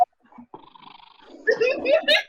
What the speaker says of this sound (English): there's a cat on here purring very loud